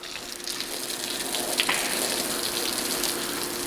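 Water sprays onto the cab windows of a new demo combine, a continuous close rushing gush of liquid with a faint steady hum underneath and no voices.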